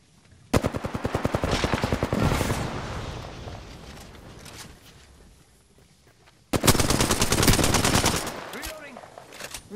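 Sustained bursts of automatic enemy gunfire in the Apex Legends battle game, loud and close: a long rattling volley, a quieter stretch with softer shots and faint voice callouts, then a second dense burst.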